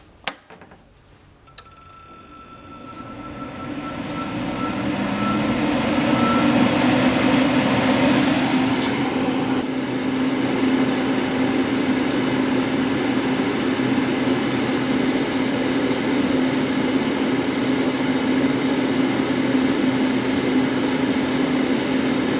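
A Lincoln Squarewave TIG 200 or Primeweld TIG 225X welding machine running steadily, a constant hum with a tonal whine that ramps up over the first few seconds and then holds level and fairly loud, with no talk.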